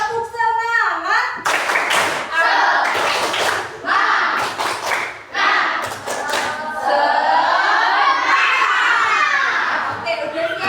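A group of children in a school lesson clap out the 'tepuk semangat' chant: a brisk run of loud, sharp clapping bursts mixed with shouted chanting voices, after a single adult voice opens it.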